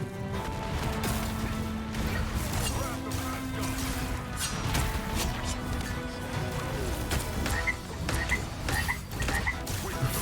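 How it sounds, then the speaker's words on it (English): Frogs croak repeatedly in the Marvel Rivals video game, loud and layered over busy battle crashes, impacts and mechanical effects throughout. "Frog noises."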